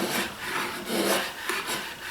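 Rasping rub of wood against wood at the bottom of a wooden jewelry box, close and steady over about two seconds with a few slightly louder strokes, no voices.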